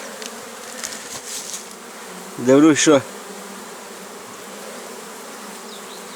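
A brief, loud buzzing of a honey bee passing close by on spring snowdrop flowers, lasting about half a second over a quiet steady background hum.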